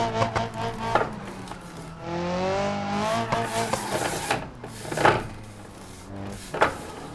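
A car in BeamNG.drive spins a steady donut on full lock, its engine holding a high, wavering rev with pitch that swells and dips, punctuated by a few sharp knocks and scuffs.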